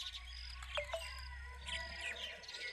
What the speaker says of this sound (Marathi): हे पक्षी पहा हे पहा